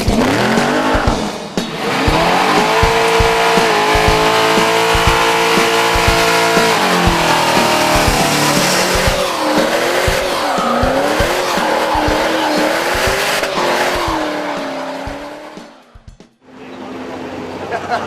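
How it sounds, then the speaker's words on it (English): A car doing a burnout at a show in Las Vegas roars at high revs while its tyres squeal on and on, with loud wavering engine pitch sweeps. A roaring crowd sits underneath, and the noise fades briefly near the end. "plenty of tyre smoking, burnout action"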